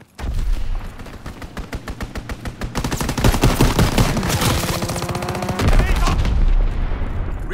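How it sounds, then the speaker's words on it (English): An aircraft strafing run in the video game Call of Duty WWII unleashes loud, rapid machine-gun fire, with staccato bursts that thicken into a dense, continuous roar of shots. "Strafing run inbound."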